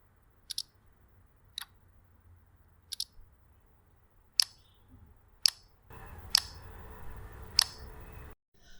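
A series of sharp, short clicks spaced about a second apart, crisp electronic tones from MIUI 10 phone lock, unlock and camera shutter sounds, with a faint hiss toward the end.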